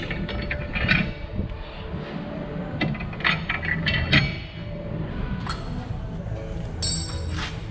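Metal parts clink and tap intermittently as new longer U-bolts go onto the rear of a Toyota Tacoma during a lift kit install, with scattered close knocks over a quiet workshop background.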